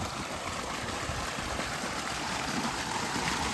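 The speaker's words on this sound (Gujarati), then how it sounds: "અને જો આ ખળખળ વહેતું પાણી" Clean water gurgles and rushes steadily nearby beside a village well in Gujarat, a continuous full-bodied flow with no voices.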